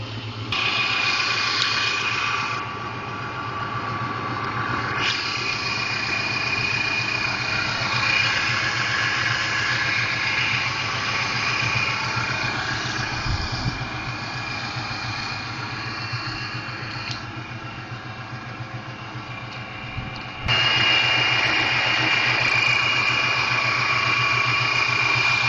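A 2000 Mustang GT with a Vortech V2 supercharger and 5-speed idles steadily, a continuous close engine rumble with a faint supercharger whine on top that swells briefly near the end.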